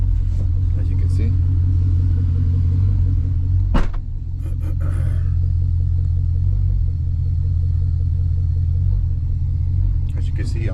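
A car with a bad third-gear transmission moves after installation, a loud, deep engine rumble droning steadily with a brief sharp clunk partway through, while someone talks over it.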